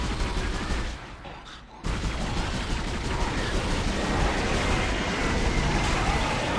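Sustained rapid pulse rifle fire in the horror shooter Dead Space: a dense, continuous automatic rattle with a brief pause, then the stream resumes loud and steady.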